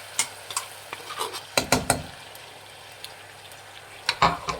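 Ground masala being stirred into frying chickpeas and green peas in a pan, soft sizzling under a few sharp clustered spoon scrapes and clinks against the pan, no voices.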